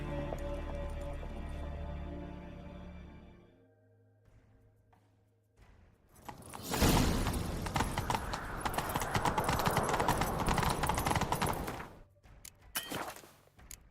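Game music fades out in The Witcher 3, then loud galloping hoofbeats thunder in close by and pound on steadily before cutting off.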